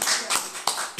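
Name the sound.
congregation applauding in church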